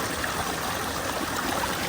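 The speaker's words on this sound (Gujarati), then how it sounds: "મસ્ત મજાનું ઝરણું" Steady broadband rush of a flowing stream, continuous and fairly even, with a soft watery hiss throughout and no voices.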